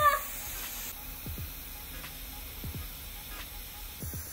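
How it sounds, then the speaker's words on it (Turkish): Aerosol can of snow spray hissing in a few short bursts, a soft steady spray under quiet background noise with faint rhythmic squeaks. "Kar spreyini sıkıyor Nisa"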